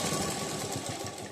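A close sewing machine stitches a border cloth onto the back neck of a blouse with a fast, even rhythmic whir that runs continuously and alone.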